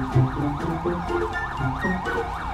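An ambulance siren from the GTA 5 video game wails in a fast, repeating up-and-down pattern, loud and close over low traffic rumble.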